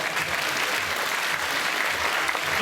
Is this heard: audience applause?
yes